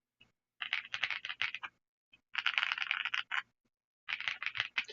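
Fingers type in quick bursts on a ReDragon Eisa mechanical keyboard, producing crisp, clacky keystrokes close up, grouped into three flurries separated by short silences, with no voices.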